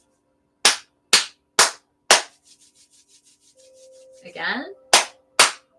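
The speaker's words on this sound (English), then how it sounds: "So we're going to rub our hands and then clap hard 3" Hands rubbed together then clapped hard in a group meditation: four sharp, loud claps in a quick row, a soft brushing rub, a brief voice, then two more claps.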